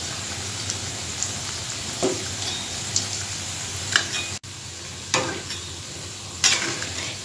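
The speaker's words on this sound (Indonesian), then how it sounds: "kita goreng sampai warnanya kuning keemasan ya" Banana snacks fry in hot oil with a steady close sizzle, broken every second or so by soft stirring and turning clicks; no talking.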